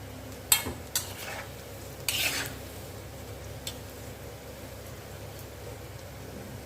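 Onion pakoda frying in oil over a medium flame gives a soft, steady sizzle, quiet and continuous, broken by a few sharp clinks and scrapes of stirring near the start and middle.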